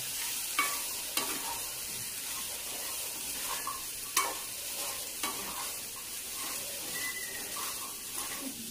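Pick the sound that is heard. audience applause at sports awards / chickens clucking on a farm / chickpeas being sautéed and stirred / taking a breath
chickpeas being sautéed and stirred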